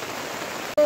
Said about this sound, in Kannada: ನೋಡಿ, ಜೋರು ಮಳೆ ಬರ್ತಾ ಉಂಟು.